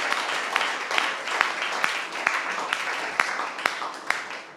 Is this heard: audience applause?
yes